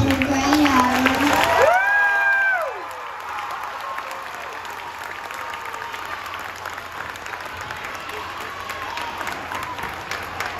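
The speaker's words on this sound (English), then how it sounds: "let's keep that cheering going" At a second-grade school talent show, a crowd applauds and cheers throughout, with shrill whoops and a voice near the start before the clapping settles into a steady roar.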